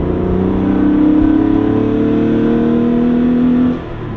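A wide-body Porsche's engine revs loud and close, holding a steady droning pitch that climbs slightly before dropping off near the end.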